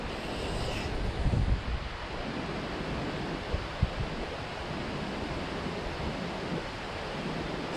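Strong wind on a fishing shore buffets the microphone in a continuous roar, with a few heavier gusts thumping low, and no one speaking.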